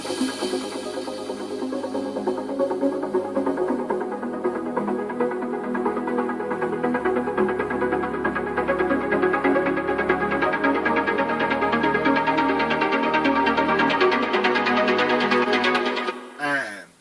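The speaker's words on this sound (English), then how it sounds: "I've also put in some other pluck sounds" Layered synth plucks play a busy, steady melody over a low sustained bass, continuous and fairly loud, cutting off abruptly near the end.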